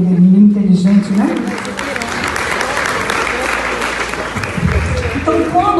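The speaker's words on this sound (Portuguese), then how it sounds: "Aplauda Jesus aqui pela vida dele" A crowd at a mental health talk breaks into applause. A voice speaks briefly at the start, then a steady, dense round of clapping takes over, with a voice returning faintly near the end.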